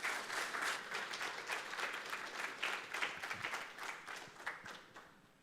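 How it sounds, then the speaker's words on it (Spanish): A conference audience applauds a presenter on risk management and critical controls in mining, with dense, steady clapping that stays loud and close for the whole stretch, no voices over it. "Un aplauso, por favor."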